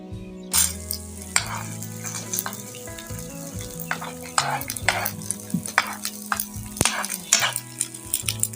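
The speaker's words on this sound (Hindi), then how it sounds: "अब इसे फ्राई कर लेते हैं।" Edible gum (gond) frying in desi ghee for panjiri, a steady close sizzle with stirring and occasional clinks of a utensil against the pan, no talking.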